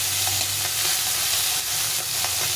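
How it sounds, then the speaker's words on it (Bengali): Tangra fish fry in a little oil in a pan, a continuous bright sizzle with soft scraping as the pieces are turned over, close and steady. "ভালো করে উল্টে পাল্টে মাছগুলো ভেজে নিতে হবে।"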